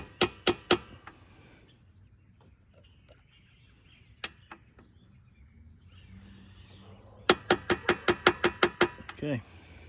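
Metal socket tapping a valve on a Toro 22-inch Recycler lawn mower engine to reseat it in a loose bore: three sharp taps, a quiet stretch with faint clicks, then a fast run of about nine metallic knocks close by.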